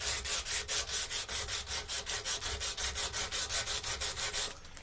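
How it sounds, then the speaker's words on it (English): Sandpaper rubs by hand along a forged steel knife blade in fast, even back-and-forth strokes, about five per second, steady and close, stopping abruptly at the end. "I'm going to rub it with a piece of sandpaper."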